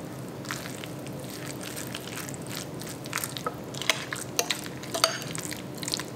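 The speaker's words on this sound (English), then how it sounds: "a touch of salt, and a little extra of some paprika. Give this a mix." Egg salad seasoned with salt and paprika is stirred in a bowl, making soft wet squishing and scraping with a few sharper clicks of the utensil against the bowl toward the end, close and quiet.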